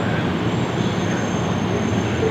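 A New York City subway train at a station gives a steady, loud rumble of wheels and cars that fills the whole stretch without a break, with no voices.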